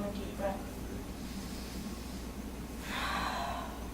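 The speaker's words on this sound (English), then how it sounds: "One more deep breath" A yoga student draws a deep breath during a stretch: a short sniff near the start, then a long, airy exhale toward the end, heard close over low room rumble.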